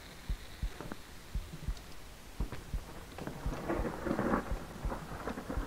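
Thunder rumbles and cracks during a storm with rain, a series of low booms and sharp crackles building to a dense rolling swell near the end, moderately distant and with no talk over it.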